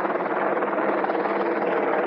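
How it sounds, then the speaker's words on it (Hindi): Helicopter coming in to land at the snowy Kedarnath helipad, a loud, close, continuous rotor roar with a rough rushing texture that holds steady throughout. "तो ये आ रही है एक हेलीकॉप्टर जो कि अभी हेलीपैड में लैंड करेगी"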